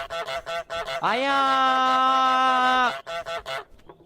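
A cartoon goose honks in Untitled Goose Game, one long, loud, buzzy nasal honk lasting about two seconds. Short choppy speech-like sounds come before and after it.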